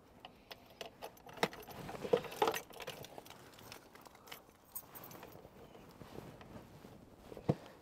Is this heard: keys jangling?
yes